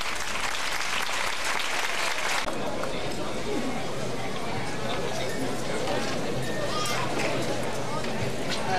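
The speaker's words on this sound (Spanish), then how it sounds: "Un fuerte aplauso para Rubio de los Boliches" Audience at a flamenco performance of malagueña applauds the singer Rubio de los Boliches, a loud sustained burst of clapping that thickens after the first couple of seconds, with crowd murmur and voices underneath.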